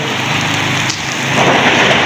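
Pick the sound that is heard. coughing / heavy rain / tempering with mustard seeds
heavy rain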